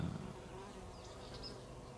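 Paper wasps (Polistes) buzz in flight at their nest entrance in a flower pot, a faint, wavering hum with a few brief, thin whines as single wasps pass close, heard with no voices.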